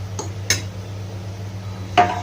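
A spoon clinks against a bowl while stirring eggplant dip of pickled eggplant with pepper, garlic, salt, cumin, lemon, vinegar and oil. Three short scraping knocks come close up over a low steady hum.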